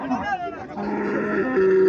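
An Indian Haryana breed cow moos in a long, drawn-out call at a cattle sale in Chauddagram, moderately close, with a faint hum of background activity.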